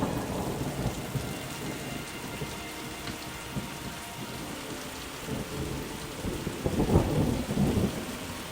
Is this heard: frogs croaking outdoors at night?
no